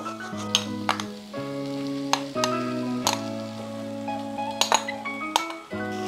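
Fried bish kochu (taro) stirred into oil and frying spices in a pan, with steady sizzling under repeated metal clinks and scrapes of a spoon against the pan, close and continuous.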